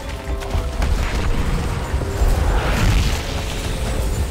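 A wall being shot down in Gears of War sets off a heavy, sustained explosive roar that rumbles and crackles for several seconds at close range.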